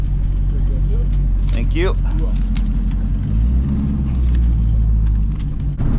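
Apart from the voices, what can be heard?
drag racing car driving back to staging lanes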